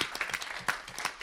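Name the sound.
audience applause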